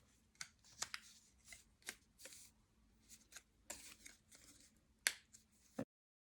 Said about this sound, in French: Donc, on va tout plier en deux comme ceci.